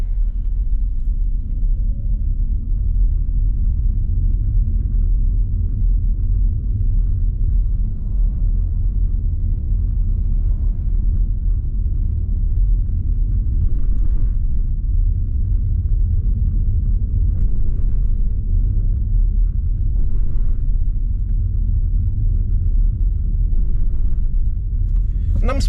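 Omoda E5 electric car accelerating with every window shut, heard from inside as a steady, heavy low rumble of road and tire noise that holds evenly throughout.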